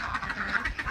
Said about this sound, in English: flock of ducks